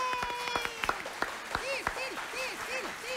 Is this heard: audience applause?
yes